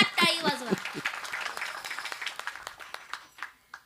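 At a kirtan, an audience applauds a mridang player. A speaker's voice opens the clip, then scattered clapping follows, gradually thinning and fading toward the end.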